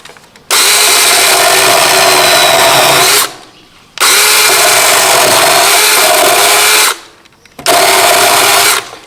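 A Makita DUC122Z 18V LXT cordless pruning chainsaw runs in three loud, sustained bursts of high electric motor whir. Each burst cuts off sharply into brief near-silence before the next.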